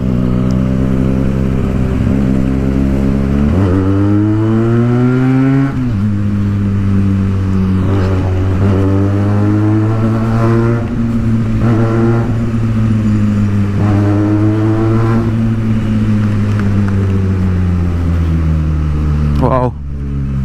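A Benelli TNT 300 motorcycle engine drones loud and close while riding, its pitch rising and falling through repeated throttle changes and gear shifts.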